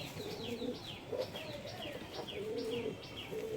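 A black-tailed Allahabadi Kaldoma cock pigeon, held in the hand, coos softly in repeated low warbling phrases, with light chirps and faint rustling as it shifts and struggles, all fairly quiet against steady outdoor background noise.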